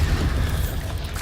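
The Bombarda blasting spell explodes in Hogwarts Legacy with a deep, loud boom and rumble that fills the whole short moment and fades slightly at the end.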